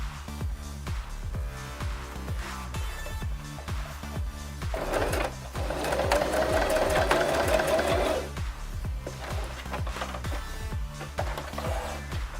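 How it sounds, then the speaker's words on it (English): Domestic sewing machine tacking elastic onto towel fabric, a steady rapid mechanical stitching rhythm that runs throughout with a brief louder, faster burst in the middle, close and alone. "I've just used the sewing machine to tack it in place"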